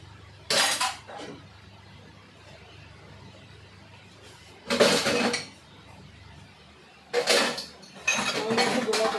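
Dishes washed by hand at home clatter and clink in three separate bursts of metal utensils and pots knocking together, close and sharp, with quiet pauses between them.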